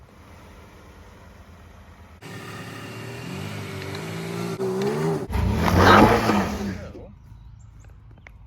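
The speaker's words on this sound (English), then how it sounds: "I'm gonna take my truck and I'm gonna drive straight over the middle of them" A pickup truck drives straight over Amend2 rifle magazines, its engine rising from a low idle into a loud, close revving surge with crunching that peaks, then fades; a voice speaks briefly at the start.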